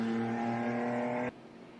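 A race car roars past on the track during a touring car race in Riga, its engine droning loud and close, then cutting off abruptly.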